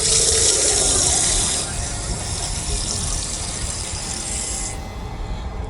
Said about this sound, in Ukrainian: всюди є ось такі джерела, де легко можна просто зупинитися, набрати чистої води